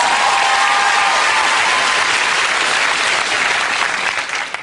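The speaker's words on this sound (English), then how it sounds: "that's worth another round of applause" A studio audience at a comedy talk show claps in a loud, sustained round of applause that stays dense throughout and begins thinning just at the end.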